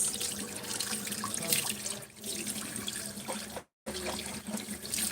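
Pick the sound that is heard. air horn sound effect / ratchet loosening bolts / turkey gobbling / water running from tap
water running from tap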